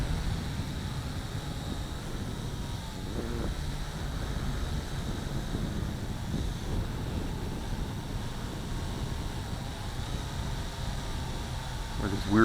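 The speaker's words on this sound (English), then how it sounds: "With this weird wind." Steady outdoor wind blowing while a Syma X8C drone flies, producing a continuous low rumbling buffet on the microphone with brief mechanical whines surfacing now and then.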